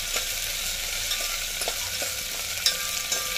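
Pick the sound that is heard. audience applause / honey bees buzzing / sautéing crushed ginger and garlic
sautéing crushed ginger and garlic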